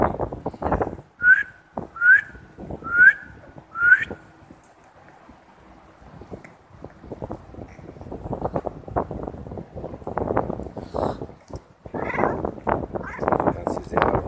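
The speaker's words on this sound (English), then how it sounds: "I'll try to whistle again." Four short rising whistles by a person calling stray street cats for feeding, evenly spaced and close, followed by wind buffeting the microphone and a person talking.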